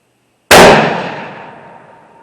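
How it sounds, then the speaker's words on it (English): One sharp, loud gunshot cracks at a shooting range in Valdosta, Georgia, then rings off with a metallic clang and a long fading tail, and no other sound follows. "That one hit dead center of the target there."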